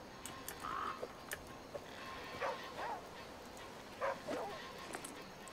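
A dog in a survival video game gives a few short, scattered yips and barks over a faint ambient bed, with spoken commentary from a player also present.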